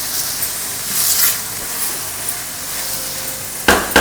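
Eggplant and potato curry frying in oil in a pan, a steady close sizzle and hiss with soft stirring scrapes, ending in a sharper clatter.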